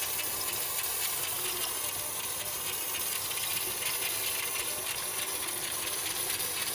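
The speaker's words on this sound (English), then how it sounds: "we get a can of brake cleaner, and don't go full pressure to start with, just get everything wet" Brake cleaner sprays from an aerosol can onto dusty axle and brake parts of a Mercedes 220SB, a steady continuous hiss that runs without a break from start to end.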